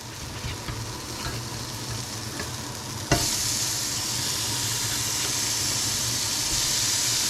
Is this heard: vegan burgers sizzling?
yes